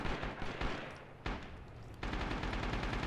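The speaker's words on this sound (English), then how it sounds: "I'm hearing shots from the front here" Gunfire in the shooter game Rising Storm, dense rattling shots and bursts with a couple of sharper loud cracks, steady and fairly close throughout.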